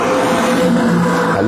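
A car engine running with no oil, droning steadily and loud with a rough, strained hum from inside the moving car.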